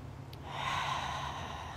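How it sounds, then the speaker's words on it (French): A single audible breath during an outdoor yoga session, a short airy inhale or exhale swelling and fading near the microphone over low ambient rumble. "Concentrez sur votre respiration."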